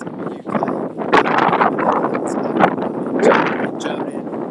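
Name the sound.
wind blowing into the microphone outdoors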